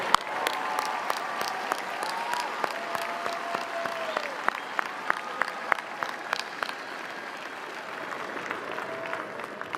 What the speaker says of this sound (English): Let's give one last round of applause to our graduates, their families, friends, loved ones, and faculty that support them on this journey